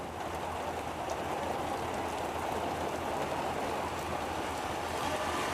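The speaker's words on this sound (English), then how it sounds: "right now where I'm standing, it's raining heavily." Heavy rain falls steadily in Shillong, Meghalaya, a dense, even hiss of drops on surfaces that stays constant and fairly faint throughout, with no voices.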